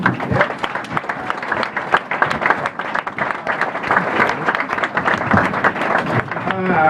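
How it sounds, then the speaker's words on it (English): Audience applause at a comedy club, a dense, loud, sustained crowd clapping that fills the room for about seven seconds, with voices mingled in. "Put your hands together and make that loud clapping sound for Mr. Keith Robinson"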